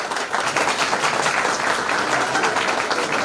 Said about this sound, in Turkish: şöyle güçlü alkışlarla alalım